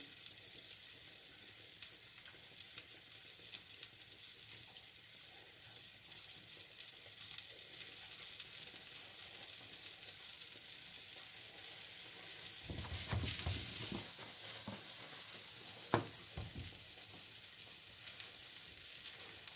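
A vegetable omelette cooks in a pan over low heat, giving a quiet, steady sizzle throughout, with a brief burst of louder crackling and one sharp tap near the end.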